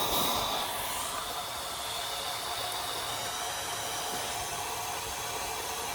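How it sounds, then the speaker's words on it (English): Compressed air from a hose blows into the fuel tank of a Kubota L2550 tractor, with a towel over the filler cap. A continuous, fairly soft rushing hiss holds steady throughout. "Then I shoot air in there,"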